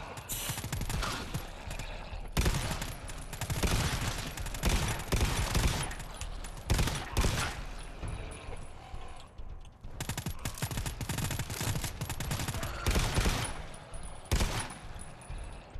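Rapid submachine-gun fire from the co-op shooter GTFO, loud continuous bursts with brief pauses, close and dense throughout.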